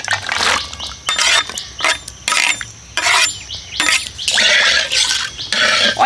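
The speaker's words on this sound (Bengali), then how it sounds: "এবার এই লবণ আর হলুদটাকে ভালো করে জলের সাথে মিশিয়ে নেব।" Salt and turmeric stirred into water for boiling jackfruit seeds, a spoon clinking and scraping against a metal pot in repeated bursts with liquid swishing, close and fairly loud.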